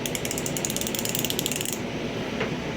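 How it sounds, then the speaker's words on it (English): Half-inch drive flexible ratchet from a tool set being turned, a rapid, even burst of close metallic clicks that stops abruptly. "And then it also came with a flexible half-inch drive ratchet."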